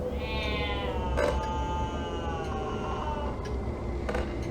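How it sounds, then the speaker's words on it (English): An unhappy cat meows in a Mystery Case Files Ravenhearst video game, a single drawn-out, falling cry heard over a steady low background hum. "That cat's not very happy."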